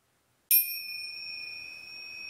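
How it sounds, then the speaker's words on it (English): A single bell strikes once after silence to close a yoga relaxation, a bright clear ding that rings on with a steady sustained tone, close and alone. "the sound of the bell tells us that it's time to awaken"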